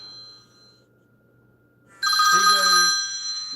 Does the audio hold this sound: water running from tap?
no